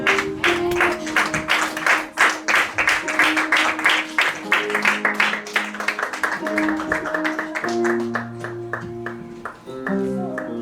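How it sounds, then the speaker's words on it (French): In a church service, a congregation claps in rhythm to honour the evangelist Marie-France as she comes forward, regular beats over sustained musical tones, with the clapping thinning out toward the end. "Quand elle va passer, nous allons applaudir pour l'honneur de notre roi."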